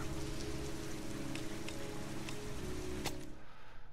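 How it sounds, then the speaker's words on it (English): Rain falls steadily outdoors in an even patter with a few sharper drops, moderately close and soft, then cuts off abruptly near the end. "It's raining outside, so I hope you're inside where it's"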